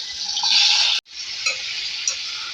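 Marinated taro root (arvi) hits hot oil in a pan and sizzles in a steady, bright hiss. A brief stir breaks the sound for a moment before the sizzling settles back in, close and continuous, with no talking.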